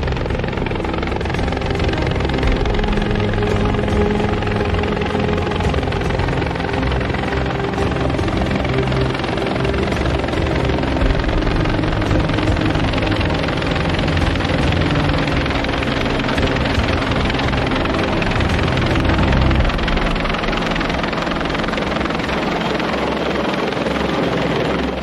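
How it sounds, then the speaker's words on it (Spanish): A helicopter's rotors thump and whine loudly at close range for the whole stretch, a steady dense roar with only minor shifts in intensity. "la fuerza del viento impulsado por los rotores del helicóptero"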